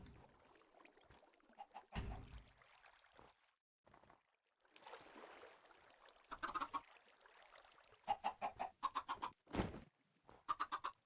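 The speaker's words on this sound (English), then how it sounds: "Oh, there's the other little chicken." Chickens in the Minecraft video game cluck repeatedly, with short rhythmic bursts that come in clusters and grow denser and louder toward the end, close by and clear.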